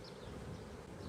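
Honeybees buzz steadily around an open beehive that swarmed, a dense continuous drone with no voices.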